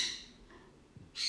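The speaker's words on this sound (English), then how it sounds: "My baby parrots are going mad." Young pet parrots squawk indoors in a couple of short, bright, harsh bursts, one at the start and another at the end, with quieter room sound between.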